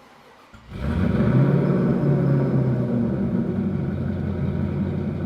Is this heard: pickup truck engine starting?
yes